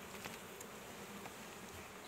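Honeybees buzz around their hive in a steady, faint, continuous hum with no voices.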